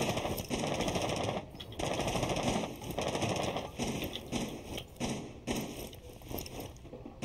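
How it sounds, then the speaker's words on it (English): Automatic gunfire in the video game Rainbow Six Siege rattles in repeated bursts with short gaps between them, fairly faint and muffled under a steady background tone, no talking. "I heard someone shooting repeatedly"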